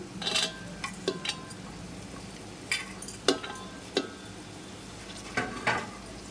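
Green chillies and chopped tomatoes go into a pot of restaurant-style vegetable biryani, heard as scattered clatters and stirring scrapes against the pan with a faint sizzle beneath.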